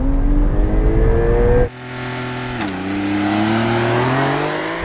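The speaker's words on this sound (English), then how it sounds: "Targa with launch control." A 2021 Porsche 911 Targa 4 with a twin-turbo 3-liter flat six accelerates hard under launch control, the close, loud engine note rising in pitch, dropping briefly at a gear change, then climbing again.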